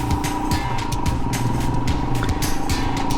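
A 2022 Royal Enfield Himalayan motorcycle is ridden around the University of Tennessee campus on game day, its engine giving a steady, close, continuous drone with no sharp changes.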